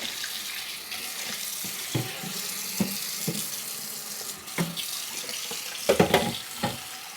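Tap water runs steadily into a kitchen sink during dishwashing, with scattered clinks and knocks of dishes and utensils over the continuous flow; no one talks.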